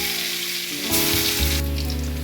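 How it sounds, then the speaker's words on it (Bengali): Potato frying in hot oil seasoned with cumin and bay leaf, a loud, steady sizzle that surges as the pieces go in and keeps crackling throughout. "এবার আমি আলুটা দেব। আলুটা ভেজে নেব।"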